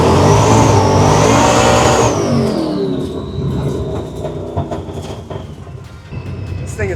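Supercharged 1968 Camaro with an 871 blower about 5% overdriven, making roughly 20 pounds of boost, revs loud and close, a high rising whine over heavy rumble that eases off after two seconds into a lumpy, rough idle.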